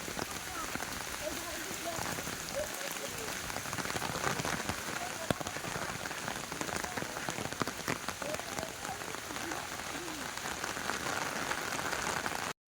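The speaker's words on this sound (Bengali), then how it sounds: "প্রচুর বৃষ্টি হচ্ছে" Heavy rain hammers down steadily near the rural railway station at Kulpi, a dense, even patter of drops on surfaces close by throughout.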